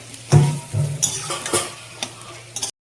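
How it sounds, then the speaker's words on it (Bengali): Onions fried in oil with bay leaf, cardamom and cinnamon until light brown, heard as a quiet sizzle with a few close spoon knocks and scrapes against the pan before the sound cuts off. "আমি পেঁয়াজটাকে হালকা ব্রাউন করে ভেজে নেব।"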